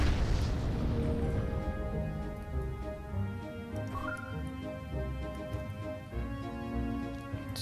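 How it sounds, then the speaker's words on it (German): A deep booming explosion in the game Treasure Planet: Battle at Procyon opens loudly, then rumbles on under a sustained musical score with tonal swells. "das war mal eine Explosion"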